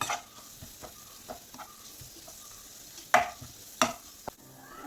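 A spoon stirs chilli powder into fish curry masala frying in a pan, making soft scraping strokes over a faint background sizzle, with a few sharper clacks of utensil against the pan standing out near the end.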